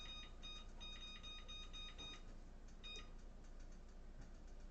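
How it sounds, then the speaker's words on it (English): A kitchen timer is set for a steak cooking in the oven, giving a burst of rapid high electronic beeps followed by a shorter pair of beeps, faint over a steady kitchen background. "Set the timer."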